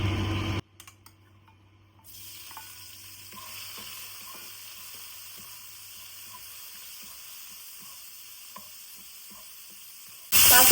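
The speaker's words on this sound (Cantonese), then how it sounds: "油滾就可以炒蝦仁。" Shelled shrimp for Cantonese egg foo young hit hot oil in a pan, giving a steady close sizzle with scattered crackles and small ticks, and a sudden louder burst of frying at the very end.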